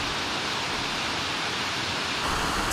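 Mountain river at the entrance to Samata Falls below Onikura in Kumano, Mie, a steady broadband rush of flowing water, close and continuous, with no voices.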